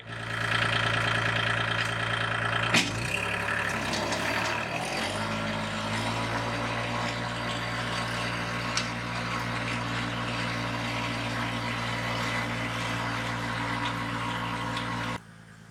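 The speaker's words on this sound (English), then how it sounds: "Wanda's using the tractor, doing a good job" Kubota L2501 tractor engine running steadily while tilling, a low constant drone close by with a brief clunk early on, then cutting off abruptly at the end.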